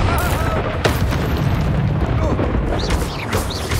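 A Confringo blasting spell explodes in combat in Hogwarts Legacy, a loud continuous roar of booming blasts and rumble with a character's voice shouting over the din.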